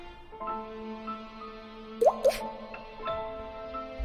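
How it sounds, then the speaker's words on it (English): Water drips inside a creepy crypt in Cruel Games: Red Riding Hood. Single soft drips fall every half second or so over a sustained eerie tonal drone, with one brief louder splashy plop in the middle. "Drip, drip, drip."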